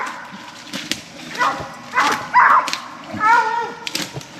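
A hunting dog barks at a raccoon up a tree at night, a few sharp barks and drawn-out bawls at moderate distance, with people talking nearby.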